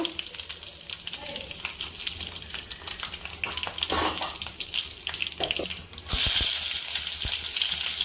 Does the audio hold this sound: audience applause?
no